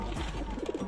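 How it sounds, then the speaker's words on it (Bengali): Several pigeons at a feeding spot coo in low, rolling bursts, close and fairly soft, with the birds squabbling among themselves. "কত পায়রা, এদেরকে এখানে খেতে দেওয়া হয়েছে, সব খাচ্ছে না, সব গন্ডগোল করছে নিজেদের মধ্যে"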